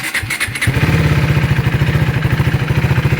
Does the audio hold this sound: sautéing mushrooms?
no